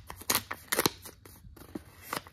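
Scissors snip through the paper wrapper of a coin roll of half dollars, giving a handful of close, crisp cuts and crinkles spread irregularly over a quiet background.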